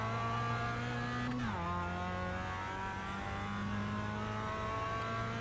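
A Mazda MX5 racing around Oran Park in a driving game holds a steady, buzzing engine note, then drops sharply in pitch as it downshifts and settles into a lower, even drone.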